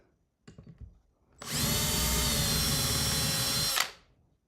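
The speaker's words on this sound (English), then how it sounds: "Center finding drill bit." A power drill with a center-finding bit whirs steadily at high speed for about two seconds, close and loud, after a few brief handling knocks.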